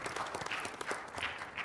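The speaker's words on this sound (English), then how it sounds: "I would like to ask you all give a big applause for all our three standing speakers this afternoon." Seminar attendees applaud the afternoon's speakers, a brief, fairly faint wash of many hands clapping together at a steady density, heard from a distance.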